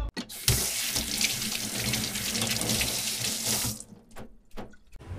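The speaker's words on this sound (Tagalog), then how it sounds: "Sunod, hugasan na natin itong mga giniling." Ground pork or beef being rinsed under a running kitchen tap, a steady splashing water stream for several seconds that cuts off, followed by a few faint handling clicks and drips.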